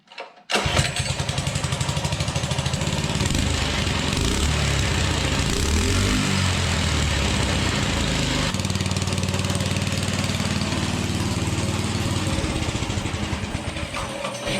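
A 263cc drift trike engine fires up after a short cranking sound and then settles into a loud, steady idle close by, with a few uneven revs in the middle before it runs evenly to the end.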